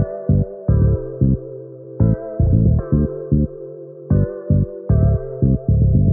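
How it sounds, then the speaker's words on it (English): A bass line made in FL Studio with octave jumps starting from A: a deep, buzzy synth pattern of short, punchy notes. A rhythmic figure repeats about every two seconds, loud and alone. "Let me give an example of a bass line that I made just applying those 3 simple techniques."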